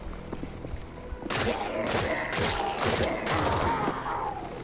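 Rapid gunfire bursts from a first-person video game, loud repeated volleys with booming impacts after a quieter opening stretch.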